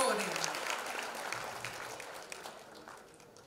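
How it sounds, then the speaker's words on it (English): An audience applauds a young woman as she is welcomed on stage at a foundation launch, with lively clapping from many people that slowly tapers off over a few seconds, with no talk over it. "Welcome her with a round of applause."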